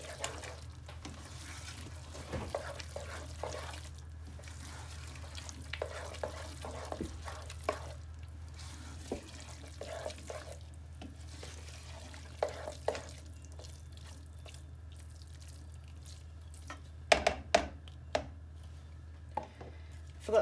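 Spaghetti mince is broken up and stirred in a pan, with soft repeated scraping and tapping over a quiet sizzle and a few sharper knocks near the end. Close and fairly faint, with no voices.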